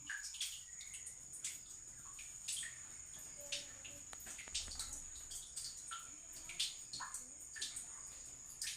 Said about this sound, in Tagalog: Nindot kayong paminahon mga higala ang tingog sa patak sa tubig